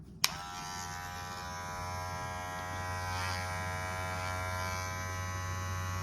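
Slime2 hair clippers switch on with a click and settle into a steady, fairly quiet electric buzz with a low hum underneath, running continuously close by with no talking.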